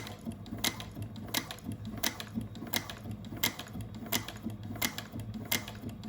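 A Juki 1541s sewing machine stitches at slow speed, giving a steady, evenly spaced run of sharp mechanical clicks over a low motor hum, close and fairly quiet.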